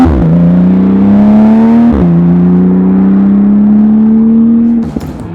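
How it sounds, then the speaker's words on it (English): Porsche GT2 RS Weissach engine at full throttle, a loud, rising wail through two gears with a brief dip at the shift, then cutting off abruptly near the end. "Absurd because of what happens the first time you really open that throttle."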